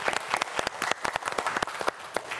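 Studio audience and contestants on a Korean science quiz show clap in a short, lively burst, with distinct close hand claps over a scattered crowd.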